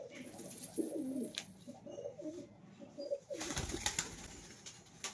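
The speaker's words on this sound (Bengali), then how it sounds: "বাড়ির পায়রা।" Domestic house pigeon (বাড়ির পায়রা) cooing close by in a series of low, rolling coos over the first few seconds, then a burst of brighter rustling and bird noise toward the end.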